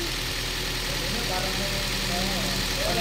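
A Toyota Vios engine runs steadily after an overhaul and cleaning, a near, continuous idle with a low mechanical rumble and faint ticking. Voices are heard over it.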